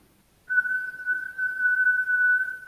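A voice imitates a steady, continuous whistle of air leaking from a pressure coupling on mining machinery, one unbroken high tone held for about two seconds.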